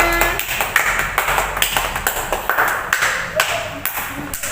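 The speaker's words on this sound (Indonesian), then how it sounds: "berikan tepuk tangan buat temannya" A primary-school class claps for a classmate during a microteaching lesson, a run of fairly close, uneven hand claps that carries through with some talk mixed in.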